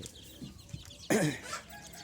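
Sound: chickens and chicks

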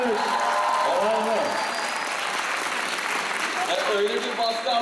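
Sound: applause

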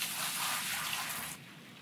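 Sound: water poured from a bucket in video game Gold Rush: The Game

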